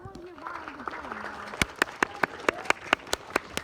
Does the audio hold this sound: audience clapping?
yes